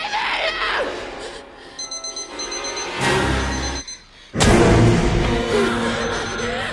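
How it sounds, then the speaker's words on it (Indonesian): An alarm clock goes off in a bedroom scene from the film Last Night in Soho, a bright steady electronic ringing that cuts abruptly into a loud dramatic score, with sharp bursts and a sudden silence before it returns full and close. "hingga suara alarm membangunkannya"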